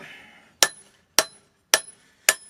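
Hammer forging a Bowie knife tang: four crisp metallic strikes land at a steady rhythm, each clang close and bright with a short ringing decay.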